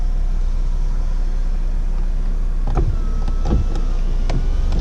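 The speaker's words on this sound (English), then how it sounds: "watch, when I roll down all my windows" Car power windows rolling down in a car with 15% window tint: a low motor hum inside the cabin with a few short mechanical whirs and thumps in the second half, no talk.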